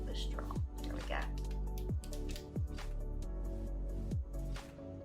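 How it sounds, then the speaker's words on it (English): Melted chocolate drips from a piping bag onto a straw set in an anti-gravity cake, making about four soft, sliding drip-like squishes over a steady low background hum. "just go ahead and drip some chocolate on our straw"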